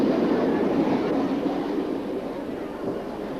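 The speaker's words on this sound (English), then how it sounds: "A pioneer train chugs its way across open country" A pioneer steam train runs across open country in southern Africa, a dense, steady wash of rolling train noise, fairly loud and fading slightly as it goes on.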